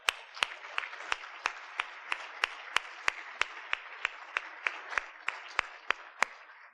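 An audience at a Montana State University welcome event applauds with a dense wash of clapping, punctuated by a sharp, evenly spaced clap roughly three times per second that carries on steadily throughout.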